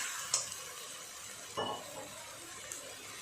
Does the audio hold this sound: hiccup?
no